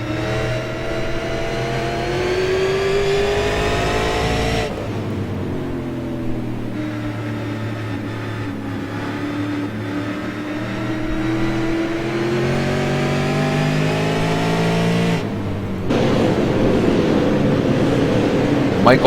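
Onboard race car engine with driver Mark at the wheel, a loud, steady droning tone whose pitch swings up and down with throttle and braking, broken by two sharp shifts in note.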